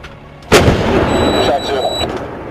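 A single loud artillery round fires with a sharp blast, followed by a long rumbling roar that trails off, with a voice faintly calling shots during a fire mission.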